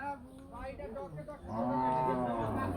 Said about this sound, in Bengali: বেশ সুন্দর কিছু মাংসের গরু দেখা যাচ্ছে আমাদের এই হাটে